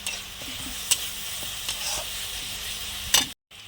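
Garlic sizzling steadily in hot oil in a home kitchen, a constant hiss with occasional sharp clinks of a spoon against the pan, a brief cut to silence near the end.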